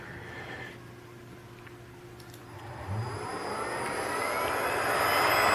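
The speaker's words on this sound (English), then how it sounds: "turn the Spindle" A 3 kW CNC spindle motor driven by a Fuling inverter spins up, a whine rising steadily in pitch and growing louder over several seconds with no talk.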